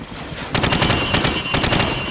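Rifle fire at targets on a firing range in Call of Duty 4 sounds as loud, rapid bursts of repeated shots, with two distinct strings of gunfire separated by a brief pause.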